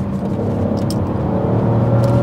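An Alfa Romeo 156 GTA with the Busso 3.2 V6 holds a loud, steady engine drone under throttle, heard from the cabin as a continuous close rumble with a slight whir and no voices.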